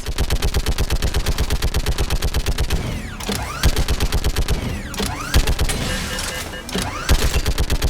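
Rapid automatic turret fire from a Kodiak shuttle in the Mass Effect video game, loud and steady in long bursts with brief gaps, alongside other gunfire and mechanical effects.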